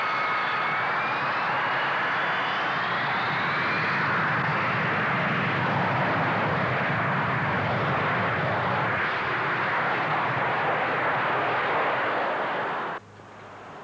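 A Harrier jet aircraft flies past with a loud, sustained engine roar, a rising whine at the start, holding steady for about twelve seconds before cutting off abruptly near the end.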